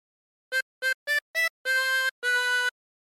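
A harmonica plays the second phrase of Yankee Doodle: four short separate notes followed by two longer held ones, clean and close against silence.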